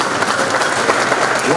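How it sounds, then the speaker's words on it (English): Applause from an audience at a college HR conclave, a short, close, dense wash of clapping hands at steady loudness. "The big round of applause again."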